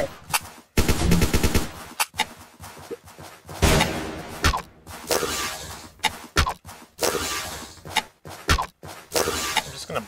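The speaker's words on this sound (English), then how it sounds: "Blind fire and hopefully hit them." Rapid gunfire bursts from the video game Zombs Royale, sharp repeated shots and crackling volleys in uneven clusters, loud and close with brief gaps between them.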